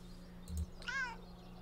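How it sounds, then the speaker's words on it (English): A single short cat meow from the game Kentucky Route Zero, rising and falling over a steady low hum, clear and fairly close with no talking. "Alert meow."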